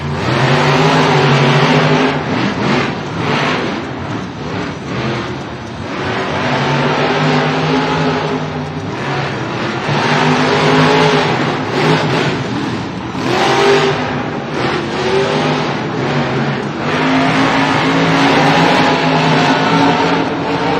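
Monster trucks race inside a stadium, their big engines revving and surging loudly over a long stretch, rising and falling as they accelerate around the course.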